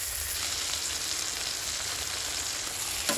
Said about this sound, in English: So I'll cook the steak first.